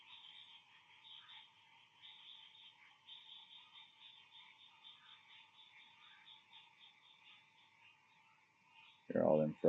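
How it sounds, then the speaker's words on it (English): A chorus of frogs croaks at night in a steady, overlapping trill at a moderate distance, continuous and fairly faint, with a sudden loud thump near the end. "They're all them frogs starting up."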